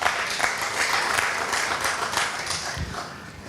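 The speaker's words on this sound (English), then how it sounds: "I want you to give the organizers a round of applause." Audience applause for the organizers at the Montego Bay Jerk Fest 2025 launch, a steady crowd clapping that fills the room at close range and holds throughout without letting up.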